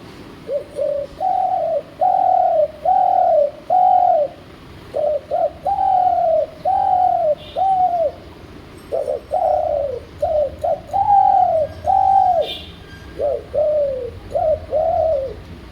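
A human voice imitates a dove's sweet morning cooing: about a dozen smooth, rounded coo phrases in steady rhythm, close and fairly loud with no other sound.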